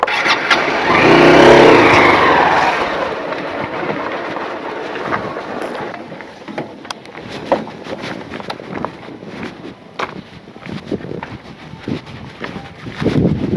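An engine cranks and catches with a loud rising roar, then settles into a rough idle with scattered clicks and knocks.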